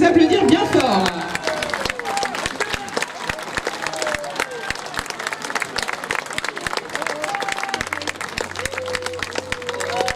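Audience applause for costumed participants at a Venetian-style costume parade podium in Chanaz, with dense steady clapping and crowd murmur running throughout, voices and cheers mixed in near the start.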